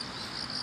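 Crickets and other grass insects on an autumn morning commute, a faint continuous high trilling chorus with soft background hum, brief and steady.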